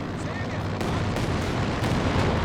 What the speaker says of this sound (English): Here comes the Katyusha looking for some revenge.